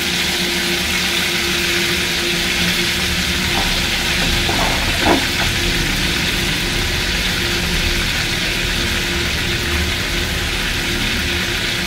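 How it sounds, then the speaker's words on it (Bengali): Dried red chillies and panch phoron tempering in hot oil make a loud, continuous sizzle over a low steady hum, with a brief cluster of crackles midway. "শুকনো লঙ্কা ফোড়ন।"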